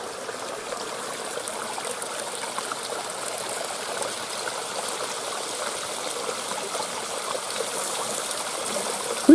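A small stream near a hidden waterfall trickles and gurgles steadily and fairly close, a soft continuous babble of flowing water with no voices.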